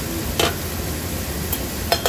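Maggi noodles with salt, turmeric and coriander powder being stirred in a pan, giving a soft continuous scraping and frying hiss with three brief utensil clinks against the pan.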